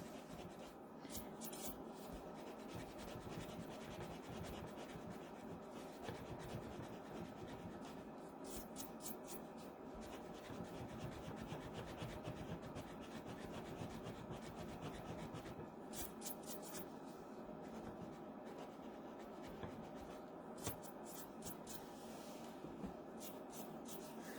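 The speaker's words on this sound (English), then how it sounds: "I have a little mono eraser. You can erase that because it's a very light one." A small mono eraser rubs back and forth over a light pencil mark on paper, with quiet, continuous scratchy strokes in faint bursts, close and alone.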